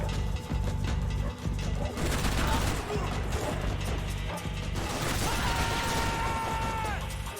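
AK rifle fire in Max Payne 3, with rapid mechanical clatter and repeated shot impacts against a busy game backdrop, and a player speaking over it.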